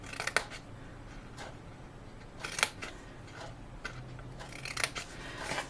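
Scissors snipping through scored tabs on a Halloween craft piece, a few sharp close snips and crisp cuts spaced irregularly over quiet background.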